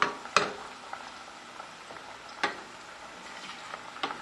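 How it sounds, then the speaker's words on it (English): Garlic for Cuban-style mojo pork fries in a pan with a faint, low sizzle, broken by a few sharp clicks and scrapes from a utensil stirring it, with no one talking. "I'm going to toss the rest of the garlic in there."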